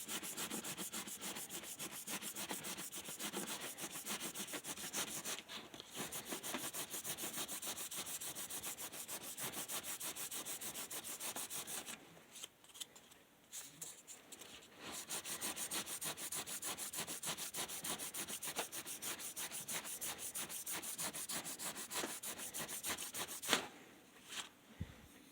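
Hand sanding with 600 grit sandpaper, a steady rapid back-and-forth rasping scrub that runs almost continuously, loud and close, with two short pauses.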